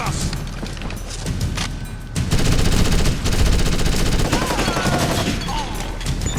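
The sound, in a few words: machine gun fire in Ghost Recon Advanced Warfighter 2 video game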